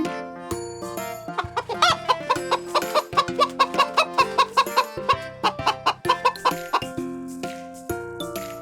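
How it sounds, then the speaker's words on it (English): A cartoon chicken on a farm gives a rapid series of bright, tonal clucks over a light musical backing, loud and close, with short rhythmic bursts throughout. "It's a chicken."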